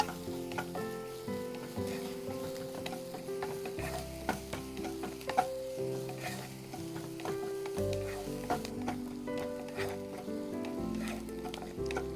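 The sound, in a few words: onions frying in a pan while being stirred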